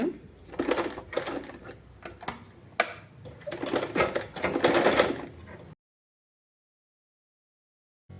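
A sewing machine stitches a blouse in several quick bursts of rapid mechanical clatter separated by brief pauses, close and fairly loud, before stopping into silence.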